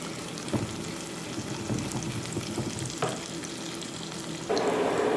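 A chicken hotdog frying in a pan gives a steady, close sizzle with light stirring and clinks throughout, ending in a louder burst of hiss.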